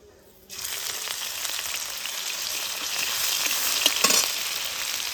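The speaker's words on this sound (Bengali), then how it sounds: "লঙ্কা আর আদাটাকে হালকা একটু ভেজে নেব" Chopped ginger and green chilli frying in hot oil with whole cumin seeds in a pan, a steady broadband sizzle that starts after half a second and holds throughout, with a few light stirring clicks near the end.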